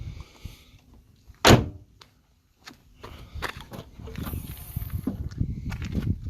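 The trunk of a BMW Z4 E85 roadster is opened with a sharp single latch click, followed by softer handling thumps and rustling outdoors.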